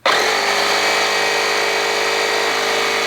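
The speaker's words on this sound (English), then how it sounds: "It gets to about 50 or 60 psi and it just starts blowing air out the regulator here." A small air compressor runs loud and close in a steady mechanical drone, with air hissing out of a leaking regulator. It starts abruptly and cuts off sharply at the end.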